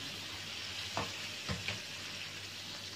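Curry leaves frying in a pan for a fish curry, a faint, steady sizzle with a few soft knocks of stirring; nobody speaks.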